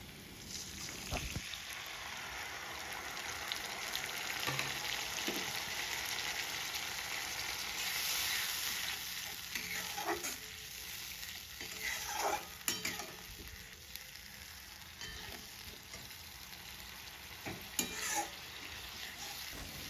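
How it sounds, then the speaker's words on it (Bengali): Onions and a prepared spice paste fry in a pan for an egg curry. A continuous sizzle runs under repeated scraping stirs, with occasional sharper utensil knocks against the pan. "এবার একটু নাড়বো ভালো মতো ভাজা হওয়া পর্যন্ত"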